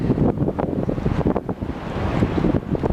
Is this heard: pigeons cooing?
no